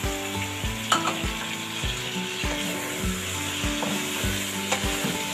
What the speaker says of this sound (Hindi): अब मैं इसके अंदर डालूँगी टमाटर का पेस्ट।